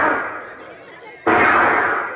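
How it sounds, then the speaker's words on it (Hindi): A single sharp gunshot-like bang strikes abruptly partway through, followed by a loud sustained burst of noise that slowly fades, over a dim rumbling background. "ये इंस्पेक्टर छुप छुप कर गोलियां चला रहा है।"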